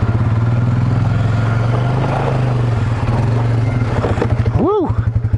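Beta Xtrainer dirt motorcycle engine held under steady throttle on a trail at Hackett Gulch, droning close and loud, then revving up and dropping sharply near the end. Riders talk over the engine.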